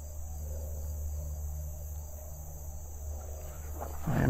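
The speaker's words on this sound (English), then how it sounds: "I am hearing from some tree frogs nearby." Tree frogs call near a rail trail in Ontario, a steady high, insect-like trilling chorus that runs throughout at moderate distance, with a brief rustle at the very end and no talking.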